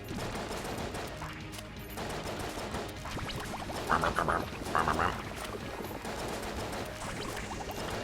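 Rapid crescent crossbow shots in the video game Enter the Gungeon form a dense, continuous burst of game gunfire with busy effects layered throughout, steady and loud with a couple of brighter bursts midway.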